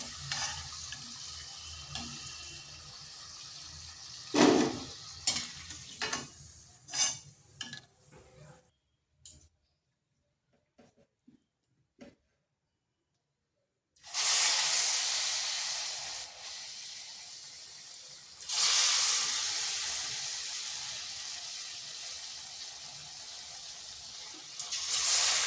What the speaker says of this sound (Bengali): তো এইভাবে আমি সবগুলো ভেজে নিচ্ছি।